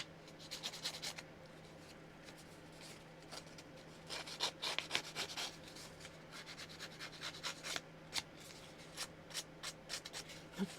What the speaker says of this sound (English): rough up your edges with the blade of your scissors.